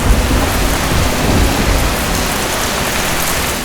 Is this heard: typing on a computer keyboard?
no